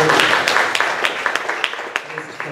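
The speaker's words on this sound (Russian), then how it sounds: "Аплодисменты" Congregation clapping at a church service, a loose wash of applause that thins into scattered individual claps as it dies away over two and a half seconds.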